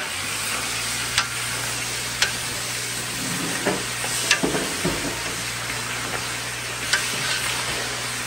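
A utensil stirs a sizzling mixture in a pan, with a steady frying hiss beneath a few sharp scrapes and taps against the pan over several seconds, and no talking.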